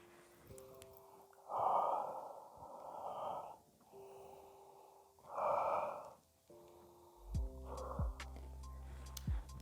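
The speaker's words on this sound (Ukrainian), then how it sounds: "Далі на цей чай потрібно повільно видихнути." Slow, deep exhalations onto dried tea leaves during a tea-smelling ceremony, several long close breaths in a steady rhythm with pauses between them, ending with a faint ticking.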